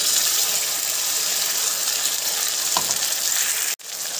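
Spice paste of coriander, cumin, cinnamon, cardamom, dried chilli, ginger, garlic and tomato fries with potatoes and onions for a jackfruit curry, giving a loud, steady, crackling sizzle that runs unbroken until a brief drop near the end.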